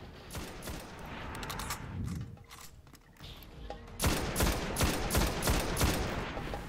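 Rapid enemy gunfire in the Destiny video game. Dense bursts of automatic shots crackle and thud in irregular volleys, easing briefly before a louder, sustained barrage erupts close by.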